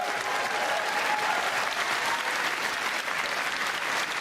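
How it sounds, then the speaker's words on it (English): A large audience at the BAFTA Games Awards applauds Nintendo, a dense, steady roar of clapping from a crowd in a big hall, with no talk over it. "Big round of applause for Nintendo"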